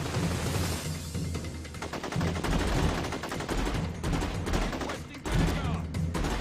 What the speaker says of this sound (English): Pick up a machine gun. Shoot people in really, really boring vision.